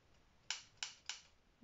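Scissors cutting a small piece, with the blades sticking a little. Three crisp, separate snips come at a steady pace, close and quiet, with no talking.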